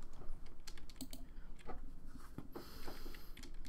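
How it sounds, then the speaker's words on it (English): Rapid keyboard typing in The Sims video game, a steady run of soft clicks and taps across a few seconds, fairly quiet, with no talking over it. "I think you can practice the typing"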